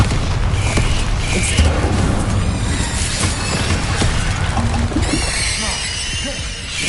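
Bombarda spell explosions in the video game Hogwarts Legacy, a continuous barrage of loud booms and splashy blasts layered with other combat effects, the whole clip dense and busy with no quiet gaps.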